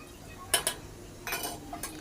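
A utensil scraping and clinking against a pan while masala is stirred into a mango pickle, a few sharp metallic taps amid quiet low hiss.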